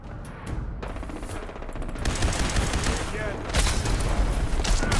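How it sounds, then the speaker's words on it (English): Rapid gunfire and booming grenade blasts in the game Fallout 4 form a dense, loud barrage that swells midway and stays heavy, with a voice talking under the fighting. "Who's throwing grenades at me? Stop that!"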